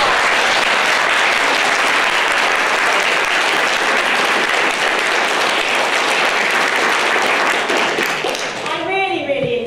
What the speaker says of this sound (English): Yes, a round of applause for those.